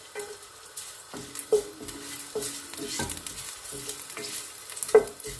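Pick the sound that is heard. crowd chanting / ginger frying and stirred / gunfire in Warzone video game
ginger frying and stirred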